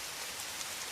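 Steady rain falls in a dense, even hiss, a continuous wash of drops with no other sound.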